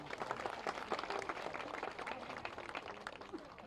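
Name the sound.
audience applause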